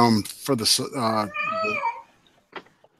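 A house cat meows in a drawn-out, wavering cry right after a person speaks, followed by a couple of faint shorter chirps, close and clear.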